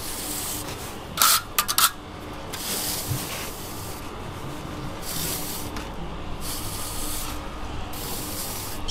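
Steel scratcher raking grooves into a fresh sand and cement render scratch coat, a steady close rubbing scrape running throughout with a few sharper scratches near the start and no talk.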